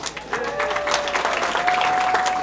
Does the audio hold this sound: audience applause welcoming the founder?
yes